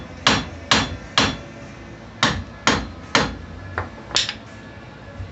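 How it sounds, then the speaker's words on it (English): A big hammer whacks a stubborn wheel hub during removal, eight heavy metallic blows in an uneven rhythm, loud and close, each ringing briefly before the next. "Big ass hammer, give it a couple whacks."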